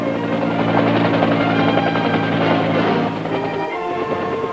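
Steady, loud rotor and engine drone from a military helicopter such as the OH-13 Sioux in Vietnam War era 1st Cavalry footage, continuous throughout with a slight drop in level near the end.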